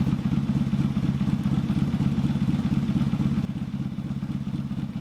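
A motorcycle engine runs close by during carburetor syncing with a steady throbbing, pulsing rhythm and a slight dip near the end, with no talk.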